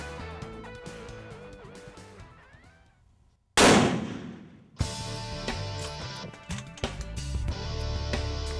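A rifle shot fired at an axis deer bull on a ranch hunt cracks out loud and close mid-clip, a sharp broadband blast whose echo rolls away over several seconds amid background outdoor noise.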